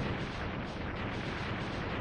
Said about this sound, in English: Wow, this is a really long explosion.